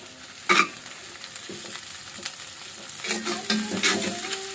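Whole cumin seeds sizzle in hot oil in a cast iron pan, a steady close crackle with a few sharper stirring scrapes and bursts, no voices.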